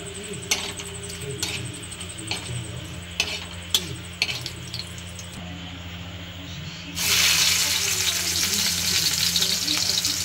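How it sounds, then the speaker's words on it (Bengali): A ground paste of cashew, almond, poppy and melon seeds fries in a pan over medium flame for shahi paneer gravy, giving a steady sizzle with scattered stirring clicks that surges much louder and brighter partway through. No one speaks. "মশলাটাকে একটু ভেজে নেওয়া হবে তার যাতে কাঁচা গন্ধটা চলে যায়"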